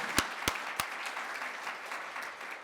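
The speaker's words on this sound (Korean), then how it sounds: "격려와 축하의 힘찬 박수를 보내드립니다" Applause in a Korean district council plenary session in Suseong-gu, Daegu: a steady wash of clapping from the assembled members, opening with a few sharp claps and then carrying on evenly without voices.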